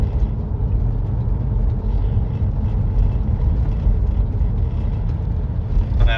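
A van in limp mode driving along roadworks on a beaten track, a loud, steady low engine and road rumble heard from inside the cab, continuous and without talk.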